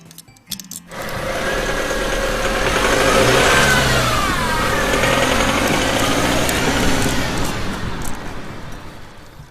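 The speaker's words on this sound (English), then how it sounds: "Green semi-truck." A semi-truck engine revs loudly and steadily for several seconds, rising and falling in pitch with a sustained roar, alone without talk.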